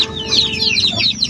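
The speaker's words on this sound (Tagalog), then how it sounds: "hapon ngayon magpapakain tayo sa mga pasisiw natin. Yan o, excited lang kumain o." Chicks cheep and cluck busily at feeding time on a small farm, a close, lively cluster of high chirps over a brief stretch with no voices.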